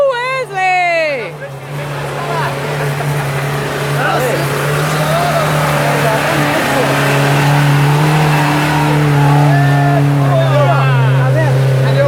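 Off-road Jeep engine droning steadily in low gear as it climbs a rough waterfall trail on all-terrain tires, a loud continuous hum under excited shouting and chatter from people nearby.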